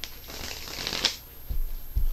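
Tarot cards shuffled by hand close up: a brief papery riffle followed by a couple of soft thumps as the deck is squared.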